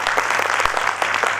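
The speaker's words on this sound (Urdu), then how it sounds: "جی ضرور تالیاں بجائیں اپنے لیے." A ceremony audience claps in sustained, steady applause at moderate loudness, with a few individual claps standing out above the crowd.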